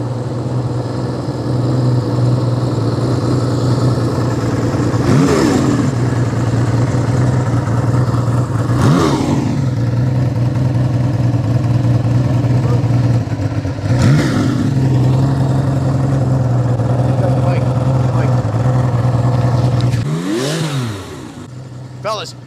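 A 1979 Benelli 750 Sei six-cylinder motorcycle runs close and loud, its engine humming steadily with several sharp revs and blips spaced through the stretch before settling; a voice talks over it.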